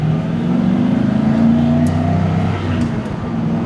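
Ford Mustang Cobra with a fresh clutch accelerating through the gears, a steady loud engine drone with harmonic pitch shifts as revs climb and drop, running continuously throughout.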